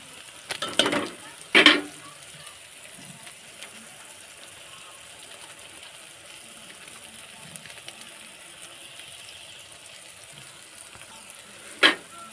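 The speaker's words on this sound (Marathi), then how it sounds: "मसाला पण टाकून घेतले आणि परतून घेते त्याला" Chicken with turmeric and masala sautés in a pan with a steady, soft sizzle throughout, broken by a few louder scraping stirs near the start and once near the end.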